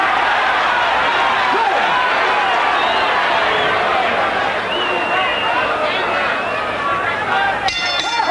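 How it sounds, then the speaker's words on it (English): A stadium crowd at a 1986 WBC lightweight title boxing fight roars and murmurs continuously, a loud, dense babble of many voices with shouts and whistles throughout. "And the crowd reacting as you might expect they would."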